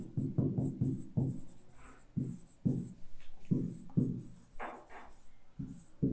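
Writing a definition on a classroom board during an electronics lecture: a quick series of tapping, scraping strokes in short bursts with brief pauses, fairly close and with no talk over it.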